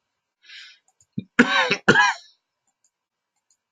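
A brief throat clear followed by two harsh coughs, close to the microphone, then silence.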